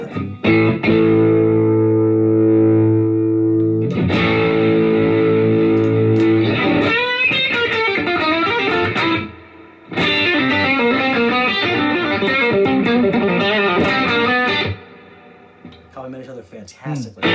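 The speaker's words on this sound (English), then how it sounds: "Kind of a subtle reverb, and we're going to engage it with the overdrive." Electric guitar run through a HandleBox overdrive pedal with subtle reverb, playing sustained overdriven chords and then busier riffs with a short pause in between, loud and steady with no talking over it.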